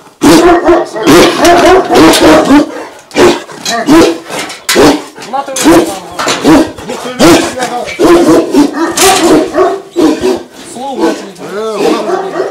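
A large Kazakh tobet weighing about 100 kg gives repeated deep, loud barks in irregular bursts, close by, with short gaps between volleys.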